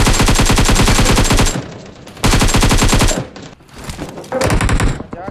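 Rapid automatic gunfire from PUBG Mobile hammers out in loud, close bursts, with two long sprays separated by short pauses and then choppier, scattered shots trailing off.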